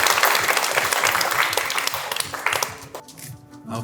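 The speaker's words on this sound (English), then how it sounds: "Please welcome him with a big round of applause." Sustained applause from a conference audience in Seoul welcoming a speaker to the stage, steady dense clapping throughout that thins slightly near the end.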